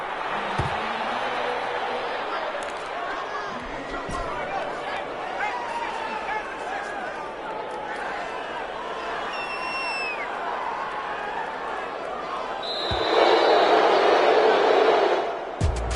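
A football stadium crowd at a Desperados at Lions game murmurs and chatters in a broad, steady wash, with scattered shouts, faint whistles and a louder swell near the end, under a commentator's talk.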